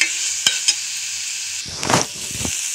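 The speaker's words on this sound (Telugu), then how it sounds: "ఆనియన్స్ అనేది ఫ్రై అవుతున్నప్పుడు చూసారా ఆయిల్ అనేది బయటికి వచ్చేస్తుంది కదా, అలా ఫ్రై అనేది అవ్వాలి" Onions fry in hot oil for a prawn curry, giving a steady sizzle with a few sharp stirring scrapes and clinks of a spoon in the pan, close and moderately loud throughout.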